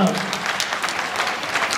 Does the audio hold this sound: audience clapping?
yes